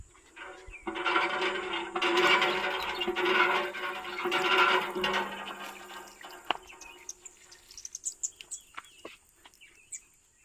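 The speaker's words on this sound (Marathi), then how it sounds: "तुम्हाला दाखवते बोरिंगचं पाणी." Borewell water gushing near a farm field in surges for several seconds, then trailing off into drips and splashes while birds chirp nearby.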